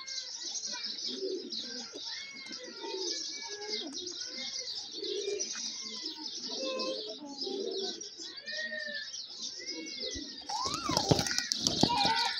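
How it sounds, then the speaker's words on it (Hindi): Banded pigeons on a rooftop canopy coo steadily in soft, repeated rolling calls, several birds together, ending with a burst of fluttering wings and chirps. "उधर वो जाल में कबूतर नजर आ रहे हैं, इधर ये बैठे हुए हैं कबूतर।"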